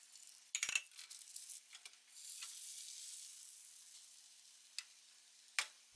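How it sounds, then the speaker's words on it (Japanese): Beaten egg mixed with a little starch slurry is poured into a hot frying pan that was briefly set on a wet cloth. A sharp sizzling burst starts the pour, then a softer hiss fades, with a few small clicks and no speech. "熱したフライパンを一度濡れ布巾に乗せてから、"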